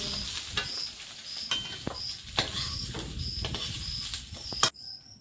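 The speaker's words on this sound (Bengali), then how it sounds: "সুন্দর করে ভেজে দেবো" Fish sizzling in hot oil in a pan, a steady close crackle with occasional sharper pops and bursts, with no talk over it.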